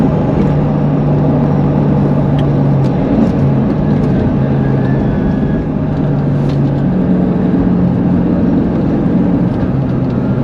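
Corvette engine droning steadily from inside the cabin while driving, pitch shifting and dropping at downshifts with heel-and-toe throttle blips, constant loud road and engine noise with no voices.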